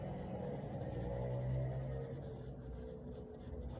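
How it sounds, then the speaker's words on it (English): A 4B pencil scratches across paper while shading a drawing of a face, soft close strokes in a quiet room with light rustles near the end. "Now I'm using a 4B pencil,"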